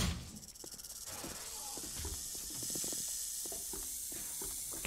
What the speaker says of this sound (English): Keep my eyes peeled for a snake, maybe? I keep hearing it.